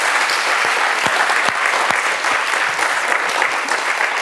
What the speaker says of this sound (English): let's give a round of applause to our wonderful speakers